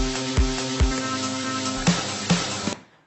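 A looped electronic DJ beat roll repeats on quarter-note hits, with punchy kick thumps pulsing steadily under a sustained synth tone before cutting off abruptly.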